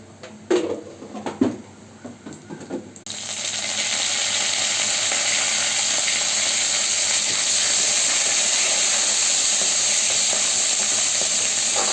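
Fennel seeds drop into hot oil with a few clattering knocks, then a loud, steady sizzle of frying carries on without a break.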